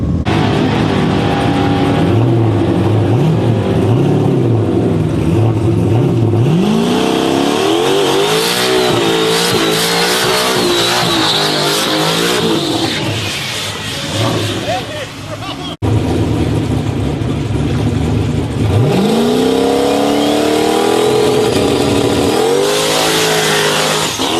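Drag race car launching down the track at a Thursday night test-and-tune session in Mooresville, loud engine roar climbing through revs with rising pitch sweeps, a brief dip, then another hard acceleration run, with some voices in the background.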